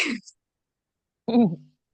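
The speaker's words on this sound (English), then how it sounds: "I don't know why I'm coughing all of a sudden" Two short, separate throat noises a second apart, the first a harsh rasp, the second a voiced clearing or small cough, close and otherwise quiet.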